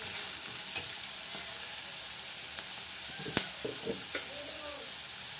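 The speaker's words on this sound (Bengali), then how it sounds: "সবজিগুলো ভেজে নেবো ভালো করে।" Vegetables frying in a pan for vegetable Maggi masala, a constant moderate sizzle with a few sharp utensil clicks and stirring scrapes, no voices.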